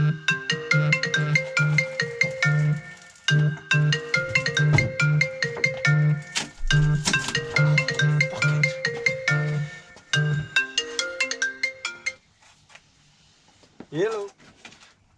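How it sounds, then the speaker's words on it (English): A phone ringtone plays a repeating melodic pattern of bright tones in regular bursts, fairly loud and close, for about ten seconds, then stops, leaving faint background noise and a brief voice near the end. "That's what happens when the phone rings."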